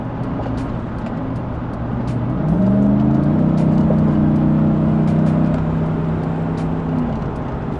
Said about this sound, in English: As you can see when I romp it, I'm going 70 right now on the freeway